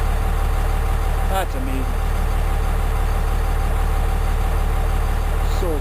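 A diesel truck engine idles close by as a steady low rumble throughout, with a person speaking briefly over it.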